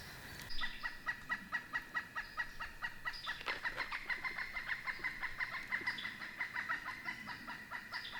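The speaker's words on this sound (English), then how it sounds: "Yeah, that owl's got him spooked." An owl calls in the woods at night, a rapid, rhythmic run of short hooting notes repeated steadily for several seconds, moderately close, with no talk.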